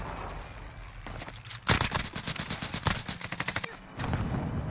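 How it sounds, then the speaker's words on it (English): Nail gun fire in the video game Fortnite, a rapid run of sharp, close mechanical shots in quick bursts with brief pauses, loud and dense over faint game background. "He's using the nail gun, Dabo."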